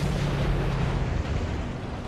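Weapons fire in a 3v3 tournament match of a video game as a unit shoots while retreating, a dense, steady low rumble of continuous firing and booms, loud and unbroken, with no voices over it.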